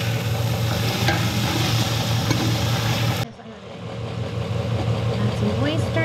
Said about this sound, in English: Now we add the rest of our protein, like our shredded chicken and the shrimp. We got sizzle.